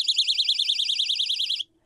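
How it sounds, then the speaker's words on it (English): A handheld personal safety alarm shrieks up close, a loud, piercing warble pulsing rapidly and steadily for about a second and a half before cutting off abruptly into silence. "your personal favorite, the personal alarm"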